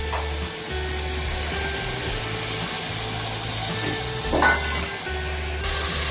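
Chopped coriander, mint and fenugreek greens with tomato fry in hot oil over a high flame for chicken biryani, a steady close hiss and sizzle throughout with a low burner hum and occasional stirring scrapes, no voices.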